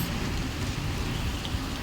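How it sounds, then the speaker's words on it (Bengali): Heavy rain falls in a steady, dense wash of hiss and patter, constant and fairly close, with no voices over it. "এই তো দেখুন কত জোরে জোরে বৃষ্টি হচ্ছে"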